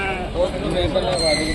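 Sheep and rams at an outdoor animal market bleat close by in wavering cries, mixed with background crowd chatter and a nearby voice.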